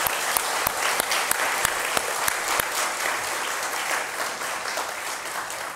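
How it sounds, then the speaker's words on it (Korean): Welcome applause from a church congregation at a Sunday morning service: a steady crowd of many hands clapping evenly throughout, fairly close and full, with no voices. "우리 환영의 박수 한번 하겠습니다"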